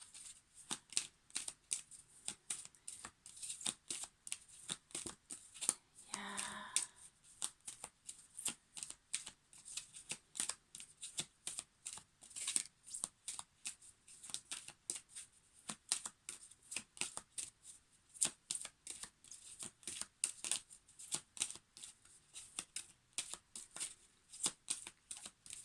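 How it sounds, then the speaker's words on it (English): Angel cards shuffled continuously by hand, a steady, close, crisp riffle of soft paper flicks that keeps going without pause and with no voices. "I've just been shuffling the angel cards"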